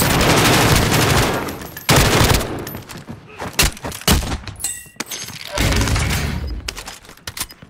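Rapid gunfire from the Warzone battle-royale video game, dense automatic bursts and sharp cracks in close succession, loud and near, with occasional voices in the background.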